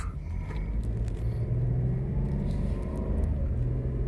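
A car slows on an open road by engine braking, shifted down into second gear without the brakes from about 45, its engine a steady low rumble and drone that holds without pause.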